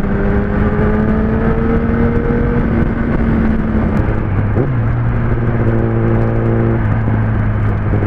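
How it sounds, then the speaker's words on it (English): A Kawasaki ZX-10R motorcycle downshifting with rev matching: a loud, steady engine drone close by whose pitch sags, blips and settles into a new lower tone midway, with no voices over it. "I just love downshifting, rev matching the bike."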